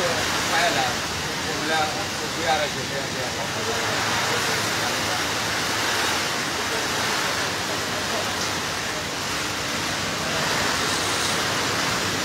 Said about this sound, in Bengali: আল্লাহ প্রচুর বৃষ্টি কিন্তু।